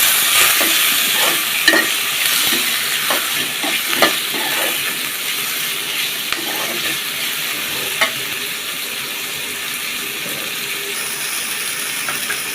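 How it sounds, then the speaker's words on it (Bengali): Spice masala with chopped tomato frying in a pan for a fish and potato curry, a continuous loud hissing sizzle broken by repeated stirring scrapes and light utensil knocks, with no voices. "এটা একটু লাল লাল করে বাজি নিতে হবে টমেটো কুচি দিয়ে দিতাম"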